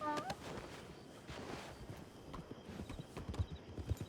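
Horse hooves clip-clop in steady, fairly close steps during RanchRP roleplay gameplay, with a short whinny at the start and a quiet background.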